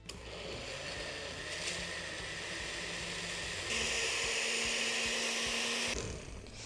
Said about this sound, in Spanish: Y nuevamente a licuar.